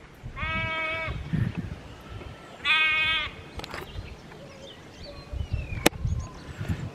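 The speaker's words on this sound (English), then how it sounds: "Lambs all think they're hungry." Lambs on a New Zealand farm bleat in two clear, harmonic bursts, the first near 0.3–1 s and the second around 2.7–3.3 s, with quieter distant calls and a short sharp noise later over steady outdoor wind.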